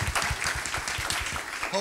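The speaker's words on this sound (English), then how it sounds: "And some applause for Luciana, who's done such a great job putting the show together" Audience applause at a music conference talk, a short spell of moderate, fairly dense clapping from a seated crowd.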